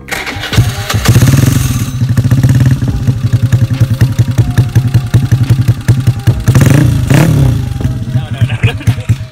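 A motorcycle engine fires up and revs in repeated loud bursts, its rumbling exhaust throbbing close by between throttle blips.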